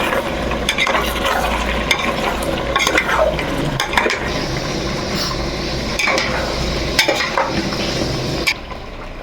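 Chicken curry with potatoes sautéing in a pan, a steady loud sizzle with repeated scraping stir strokes throughout, continuous and close.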